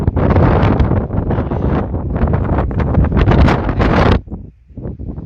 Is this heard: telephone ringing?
no